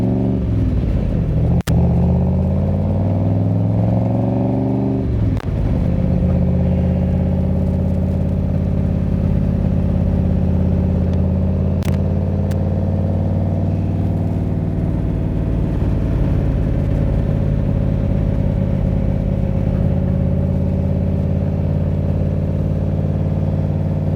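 A 1965 Shelby Cobra replica, a Superformance MKIII, drives and corners nearby, its loud engine droning steadily with rising and falling pitch as it accelerates, eases off and revs again through the turn.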